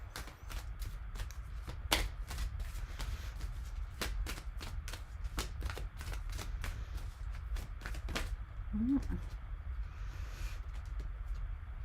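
A deck of oracle cards is shuffled up close. Soft riffles and taps repeat over a steady low background hum, and there is no talking.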